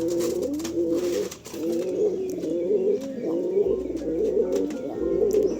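Domestic pigeons in a home loft coo steadily and close by, a continuous low rolling murmur with brief pauses and a few faint chirps.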